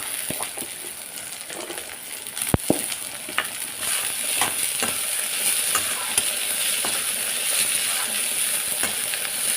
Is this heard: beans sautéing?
yes